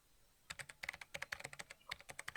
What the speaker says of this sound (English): The room was filled with the sounds of clicking keys.